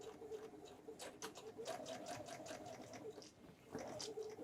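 Sewing machine stitching a 1½-inch belt strap, a steady close mechanical whir with rapid needle patter running throughout at even volume, slightly louder near the end.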